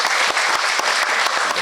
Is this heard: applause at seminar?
yes